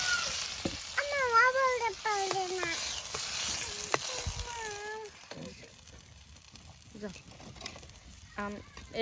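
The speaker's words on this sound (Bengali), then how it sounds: "এই দেখো এই জলটা দিয়ে দিলাম, আলুটা সেদ্ধ হয় ভালো করে" Water splashed into a hot pan of potatoes for a Bengali potato curry: a hissing sizzle that fades to a low simmer, with a cat meowing repeatedly nearby.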